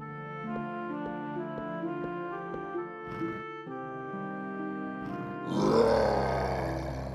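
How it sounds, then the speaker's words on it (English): A fairy-tale beast in a castle hall gives a sudden loud, growling roar that swells out of soft background music near the end. "a roar was heard again and the beast came into the hall."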